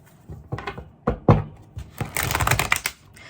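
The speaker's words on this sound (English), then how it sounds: "Let me shuffle more." Tarot cards are shuffled up close in quick bursts of riffling and slapping, sharp clicks spaced out at first and then running together into a denser flurry near the end.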